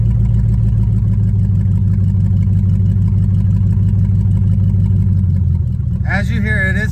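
A 1983 Oldsmobile Cutlass with its carburetor emissions parts stripped off idles loudly, a steady low rumbling drone that continues throughout, with a voice breaking in near the end.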